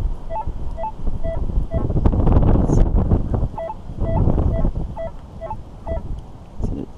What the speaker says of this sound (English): It's getting windier and colder.